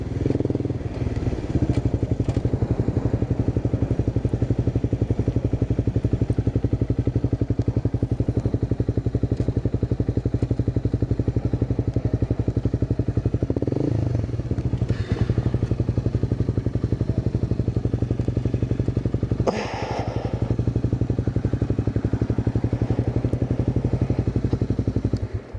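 Honda CBR 250 motorcycle on a ride, a loud, steady engine drone with constant wind rumble close to the rider, a few thumps and a brief dip in the sound along the way.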